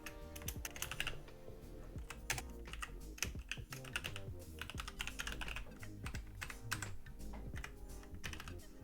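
Computer keyboard keys clatter in quick, uneven bursts of close typing that runs continuously at low volume, with no voice over it.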